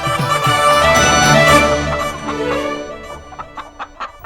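A chicken in a Tenali Ramakrishna TV episode clucks loudly and close, a drawn-out squawking call that breaks into a few short, quick clucks at the end.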